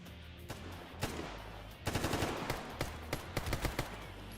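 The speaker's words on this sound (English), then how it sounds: "Someone's still shooting at us." Gunfire in the video game Stalker GAMMA, sharp bursts of automatic fire and scattered single shots, loud and close with short rapid volleys and no talk.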